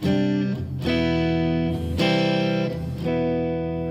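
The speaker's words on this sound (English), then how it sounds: "I'm just going to play you out with some sort of chords" Sustained electric guitar sus and extended chords ring out with heavy drive, changing roughly every second or so, loud and continuous with no voices.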